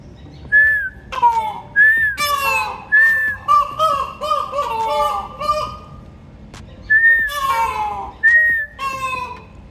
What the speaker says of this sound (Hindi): तो अभी मैं सीटी मार के इनको बुलवाने की कोशिश करूँगा।